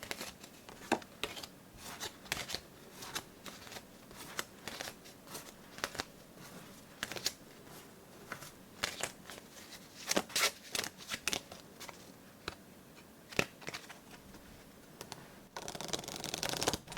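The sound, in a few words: shuffling playing cards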